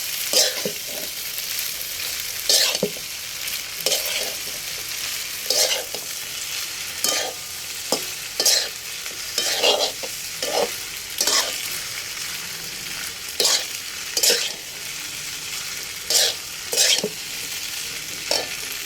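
Drained pasta is stirred in a frying pan over a steady background sizzle, with repeated close scraping strokes at an irregular rhythm and no voices.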